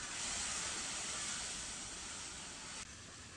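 Hot water is poured a little at a time into spices roasted in a pan, giving a steady, faint hissing sizzle that eases off toward the end, with no talk over it.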